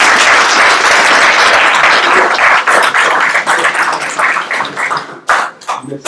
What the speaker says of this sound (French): je voudrais demander à l'assistance de lui donner une balle d'applaudissement